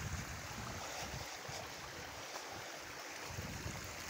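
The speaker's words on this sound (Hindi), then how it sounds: "ये हम ऊपर जो चश्मा था उसका पानी ये नीचे आ रहा है" Spring water from a hillside source runs downhill in a small stream along a village path near Murree, a steady rushing gurgle that is close and fairly even, with no one talking.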